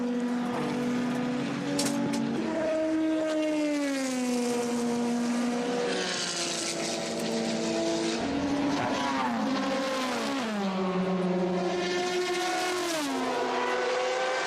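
Ligier LMP2 prototype race car at the 2014 24 Hours of Le Mans pulling out of the pit lane, its engine note loud and sustained, climbing and falling in pitch through gear changes across the whole stretch.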